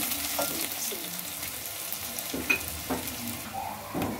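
Chopped onion frying in a pan while a spaghetti bolognese sauce is being made, a steady close sizzle with occasional stirring clicks and scrapes, heard alone with no talk.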